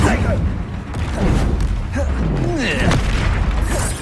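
A fiery Incendio spell blast in Hogwarts Legacy lands as a deep booming whoosh, with repeated thumps and bursts during a duel, mixed under voices and combat effects.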